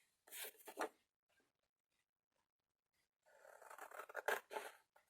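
Paper being cut with scissors for a small diagonal-fold box, a short burst of snipping followed after a pause by a longer run of close, crisp cutting and rustling.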